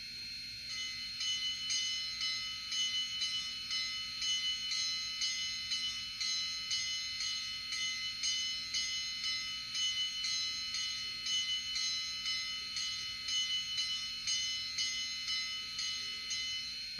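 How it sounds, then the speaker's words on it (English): A bright electronic bell from the sound decoder of a Rivarossi HO-scale C&O Allegheny model locomotive rings steadily and rapidly for many seconds, clear and close, its strokes evenly spaced with no voices. "That's a very good bell right there."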